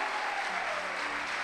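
Steady applause from a church congregation at an evangelical service in Corrientes, a dense continuous wash of clapping heard at moderate distance throughout.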